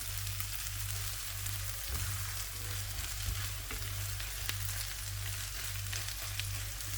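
Dried fish (shutki) fries in a pan with a steady, even sizzle and occasional soft stirring scrapes, close and moderately quiet, with no voices.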